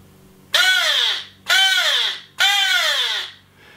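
A person imitates a crow, giving three loud, harsh caws in a slow, even rhythm, each a drawn-out nasal call with short pauses between, close and alone.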